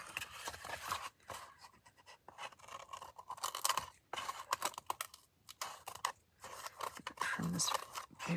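Scissors trimming paper for a handmade journal, a run of small crisp snips and scratchy cuts mixed with rustling handling noise, fairly close and moderately loud.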